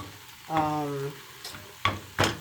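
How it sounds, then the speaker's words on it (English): Sage sausages sizzle with green peppers and onions in a frying pan, a quiet hiss broken by a short tonal squeal and a few sharp clatters of utensils. "So I'm going to throw in the sage sausages, cook them all together."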